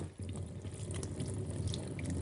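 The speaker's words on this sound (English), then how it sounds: "you take the slide with the cover slip in place and simply wash under the tap" Tap water running steadily over a hemocytometer glass slide with its cover slip in a lab sink, a close, continuous splashing rush lasting a couple of seconds.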